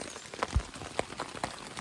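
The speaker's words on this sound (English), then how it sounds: "Still laying down because it's still raining pretty good." Rain falls on a tarp A-frame shelter on the Appalachian Trail, heard from inside as scattered close patters and soft drops with an occasional heavier thump, no talking.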